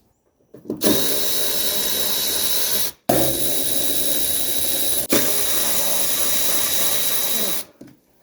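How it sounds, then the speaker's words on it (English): A power tool whirs continuously while backing out seat bolts on a 1979 Mercedes 300SD with an 8mm bit, three long loud bursts with brief pauses between them, no talk. "We just unscrew those with an 8mm, and this slips out."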